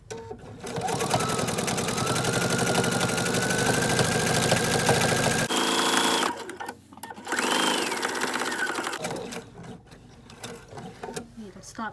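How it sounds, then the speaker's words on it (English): A sewing machine runs steadily while top stitching around a baby burp cloth. It whirs loudly for several seconds, stops briefly, then starts again in a shorter burst, with a little machine clicking mixed in. "just do the top stitch all the way around."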